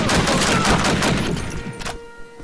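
Dense gunfire from the video game Call of Duty: a loud, continuous volley of overlapping shots and bursts that fills most of the stretch, then breaks off into a short tail of scattered echoes.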